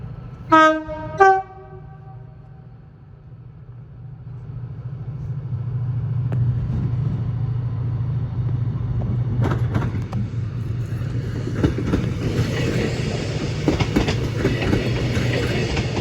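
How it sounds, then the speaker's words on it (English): At Crewe on the West Coast Main Line, a TransPennine Express Mark 5 set with a Class 68 locomotive on the back sounds two short horn blasts, then rumbles past with a swelling roar and rattling wheels over the track. "It's the Trans-Pennine Express Mark 5 set with a 68 on the back on a ECS move to Longsight from Crewe South Yard"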